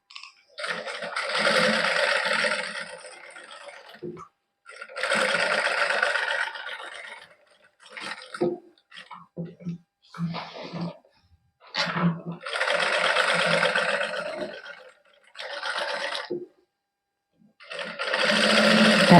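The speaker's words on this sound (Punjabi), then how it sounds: "ਸਲਾਈ ਜਿਹੜੀ ਲਾਉਣ ਲੱਗ ਜਾਾਂਗੇ ਗਲੇ ਦੇ ਨਾਲ ਨਾਲ" A sewing machine stitches along a suit neckline in repeated bursts of fast, even whirring, each run stopping briefly before starting again, close and clear.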